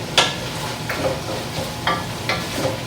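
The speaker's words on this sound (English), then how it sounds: "And this is sauteing really nicely here." Carrots, celery, onions and mushrooms sauté in a pot, giving a steady soft sizzle with several scraping strokes as they are stirred, close up and with no talking.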